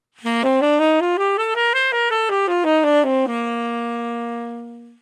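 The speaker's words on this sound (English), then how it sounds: "we're going to play the scale all the way up to the 9th and back down" A single melodic instrument plays a major scale stepwise up to the ninth and back down, each note evenly spaced, ending on a long sustained low note that fades out.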